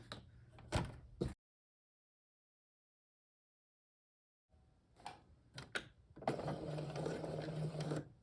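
A sewing machine back-stitching a zipper tab, with short whirring bursts and clicks, then a long stretch of silence, then a sustained loud run of stitching near the end.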